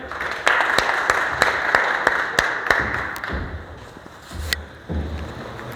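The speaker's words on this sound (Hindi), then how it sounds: "जोरदार तालियां भाई" A workplace crowd at a safety day program gives a round of applause, dense clapping with sharp individual claps standing out, loud and close, easing and thinning after a few seconds with a short renewed burst near the end.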